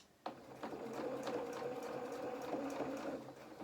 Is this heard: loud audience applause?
no